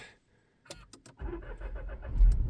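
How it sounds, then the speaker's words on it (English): A Volkswagen car cold starts: a few clicks and the starter turning over, then the engine catches and settles into a low rumbling idle nearby. "A little bit of a play on the starter, but started up nicely"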